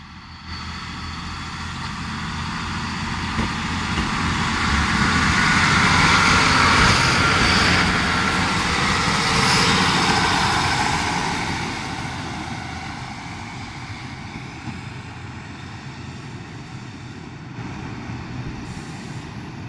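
A train pulls away from Hawarden Bridge station after arriving from Bidston, its steady engine rumble swelling to a peak midway and then easing off into the distance, with no voices.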